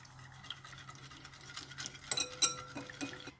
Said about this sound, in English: I think if I start whisking, I should be able to easily blend these two